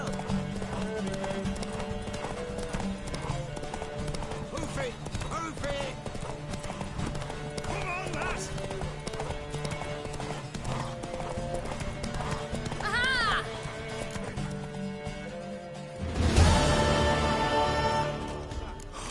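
Horse hooves gallop in a video game, a fast, continuous clip-clop rhythm up close, with voices talking over it and a brief whinny or flourish near the end.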